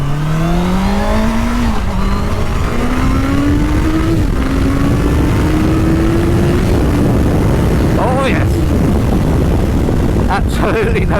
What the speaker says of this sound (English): 4-cylinder engine, so it's lovely and smooth and sounds great.